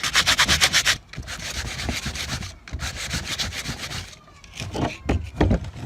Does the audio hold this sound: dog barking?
no